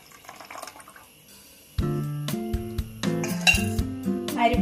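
A rice flour and coconut milk mixture is strained in a kitchen, with close, bright metallic clinks of a utensil against a vessel and soft liquid trickling, and no talking.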